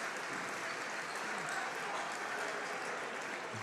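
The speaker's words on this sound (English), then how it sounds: "Charlie Krejcia, along with Jackson Riggs, standing applause from the Cowboy fans and all the fans here in the Hive as they check out for the final time in thei" Fans in a high school gym give a standing ovation during a boys basketball section tournament semifinal, sustained crowd applause at a steady, moderate-to-faint level with no pauses.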